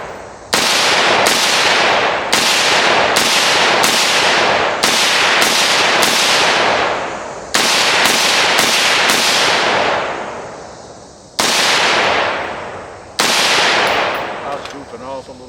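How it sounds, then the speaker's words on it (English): A Fox Army FXH50 rifle fires about fifteen sharp, loud shots at a shooting range in rapid, uneven succession. Each crack rings out with a long fading echo, and there are a few longer pauses between groups of shots. "I was shooting pretty fast, and I'm not laying prone with a bipod."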